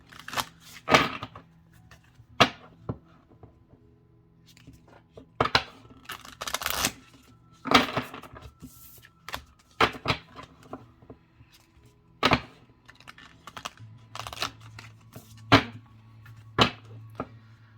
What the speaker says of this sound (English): Let's see how they shuffle this way.